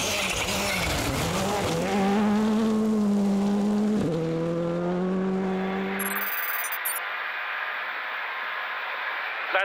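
A Skoda Fabia R5 rally car howls along a forest stage, its engine note climbing through quick gear changes before dropping to a fading, distant hum as it passes.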